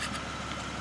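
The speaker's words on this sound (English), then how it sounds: "the car is running right now" A Ford Mustang engine runs at a steady idle, a continuous low rumble filling the short stretch at moderate loudness, with no voices.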